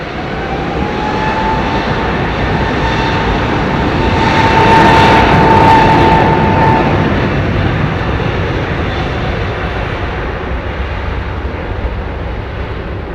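A Virgin Atlantic Airbus A350 jet roars down the runway on a full-power takeoff at London Heathrow, a loud sustained engine rumble with a high whine that peaks midway and then slowly recedes.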